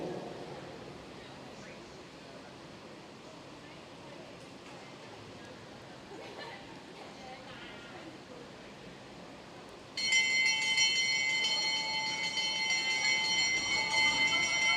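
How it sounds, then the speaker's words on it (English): A last-lap bell at a junior international track cycling race in the Australasia series, ringing out suddenly and loudly over a busy velodrome crowd and continuing steadily after a long stretch of background noise. "They get the bell."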